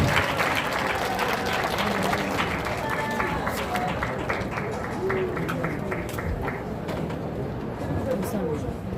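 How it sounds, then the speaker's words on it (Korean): Sustained applause from a church lecture audience, dense and steady throughout, with scattered voices and a bird cooing faintly in the background. "수고 많이 하셨습니다 하고 박수 한번 쳐주시기 바랍니다"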